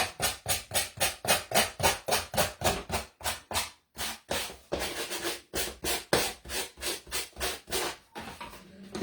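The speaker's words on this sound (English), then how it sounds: "Just sanding, make sure you sand down" Sandpaper rubs back and forth over a wooden Christmas stocking that is still slightly damp, in quick, even rasping strokes, close and steady, with a brief pause partway through and no talking.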